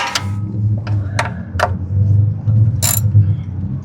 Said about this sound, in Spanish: aflojamos el tornillo.